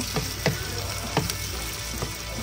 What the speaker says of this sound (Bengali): চিংড়ি মাছগুলো দিয়ে দিলাম, একটু পেঁয়াজের সাথে ভেজে নিব